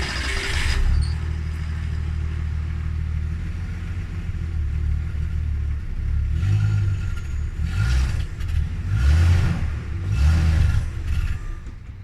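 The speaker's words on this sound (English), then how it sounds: "as soon as I give it gas, it just bogs down nice" A struggling engine bogs down under throttle, a low rumbling idle that swells in a few heavy, labouring surges without clean revving, heard nearby with no talking.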